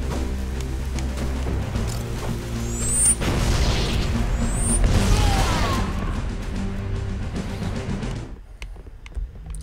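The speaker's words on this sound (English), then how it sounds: "I like how the explosion force multiplies in this game, and it's not just three separate explosions of similar strength" Rapid chain of explosions in Halo: Combat Evolved, several heavy booms and crashing bursts stacking into a loud, dense roar before cutting off into near silence.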